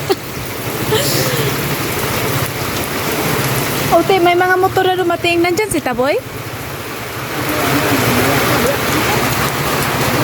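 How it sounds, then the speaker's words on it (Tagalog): Steady heavy rain pours down throughout, a loud hiss on surfaces, while people talk briefly in the middle. "malakas na ang ulan sa amin dito"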